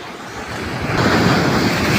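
Strong ocean surf roars steadily, building louder partway through, with wind buffeting the microphone.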